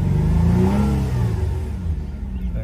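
A 2006 Nissan Murano with a camshaft position sensor fault (code P0340) cranks and fires up, the engine revving briefly and then settling into a steady idle close by.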